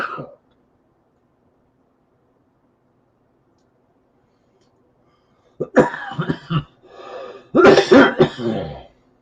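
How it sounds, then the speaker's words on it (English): Several harsh coughs and throat-clearing bursts break a long silence, close and fairly loud, clustered near the end. "Cough a chunk."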